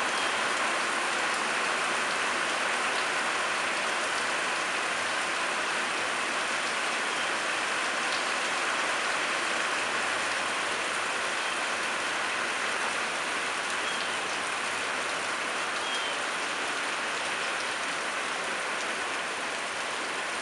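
Rain falling after a drought, a steady even hiss of light rainfall on surfaces that holds constant for twenty seconds, fairly quiet, with no voices.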